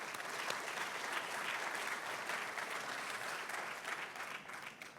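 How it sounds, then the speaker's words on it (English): Audience at a Super Bowl LV kickoff event applauds Jeff Adams, a continuous wash of many hands clapping, fairly faint and distant, tapering slightly at the end. "So let's give a round of applause to Jeff."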